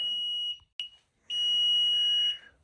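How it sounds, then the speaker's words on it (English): Two long, high electronic beeps from a newly installed HVAC system in a basement, with a short chirp between them, loud and steady, with no voices. "This dadgum beeping's got to stop."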